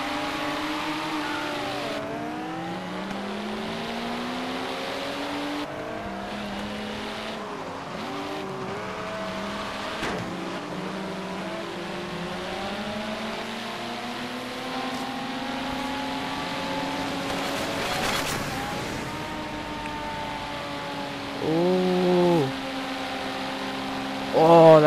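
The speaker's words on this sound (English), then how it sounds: "But this time, I am driving a Toyota Supra." A Toyota Supra engine in Forza Horizon 3 on a Hot Wheels track, revving steadily with repeated rising pitch sweeps through gear changes, loud and continuous, with a sharp tire squeal near the end.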